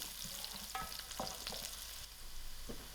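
Sliced garlic lands among browning onions in a hot pan, giving a continuous soft sizzle with a few brief scraping stirs and small clicks from utensils, heard close.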